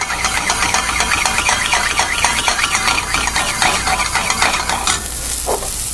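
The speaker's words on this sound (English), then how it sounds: "your wine is basically just quickly reducing in here. So it's nice and bubbly." Wine reducing quickly in a hot pan for a pan sauce after beef has been seared, with a steady, loud bubbling sizzle and occasional stirring scrapes, close and alone.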